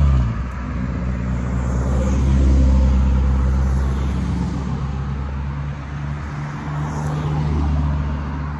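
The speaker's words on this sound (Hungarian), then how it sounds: "Egy autó beesett, aztán pár autó etapon fog most lejönni." A rally car drives along a rally stage, its engine note swelling and fading over several seconds in a steady, moderately distant roar with broad road noise.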